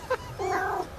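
A cat in a comedy clip gives a short high cry, then a longer drawn-out meow, close and clear against a quiet room.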